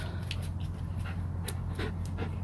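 A dog pants rapidly and steadily at close range over a constant low hum, with no talking.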